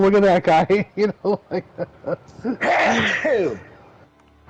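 One sharp sneeze bursts out near the close after a man's chatter, trailing into a short breathy tail and quiet.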